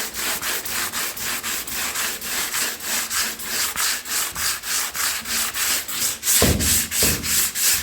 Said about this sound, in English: You notice how the sealer does not sand very well at all.